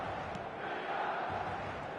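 Stadium crowd noise in the eFootball football game forms a steady, dense roar of many voices, moderately loud and unbroken for two seconds.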